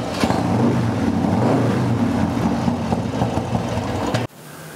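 An S&S T-Series engine fitted with Easy Start cams runs loud and steady after starting, a dense rumbling idle that cuts off abruptly near the end, leaving quiet room tone.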